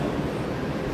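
Inside the Monorail Gold train at Walt Disney World's Magic Kingdom resort loop, a steady close rumble of the moving car fills the short moment with no voices.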